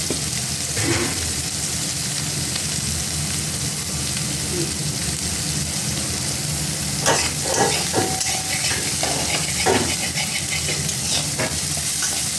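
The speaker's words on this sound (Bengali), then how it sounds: "কালো জিরা আর পটল ভাজছে।" Nigella seeds and sliced pointed gourd frying in a little oil in a pan, a steady close sizzle with scraping stirs and clinks of a spatula, and a voice talking intermittently over it.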